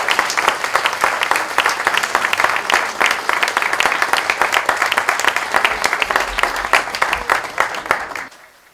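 Loud, sustained applause from an audience at a community gathering, dense rapid clapping filling the room for several seconds before fading out abruptly at the end.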